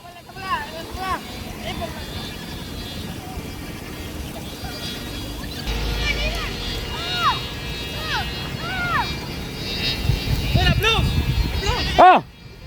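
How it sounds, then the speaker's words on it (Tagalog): Strong outdoor wind gusts buffet the microphone at a kite-flying gathering, rumbling low and rising in bursts toward the end, while people shout and chatter intermittently over it. "Malakas yung hangin mga idol."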